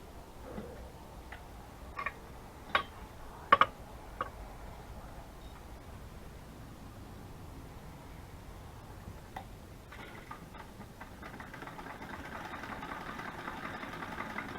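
A few sharp ticks, then a sewing machine whirs into a steady mechanical hum, stitching fabric pockets for a journal close by with no talking.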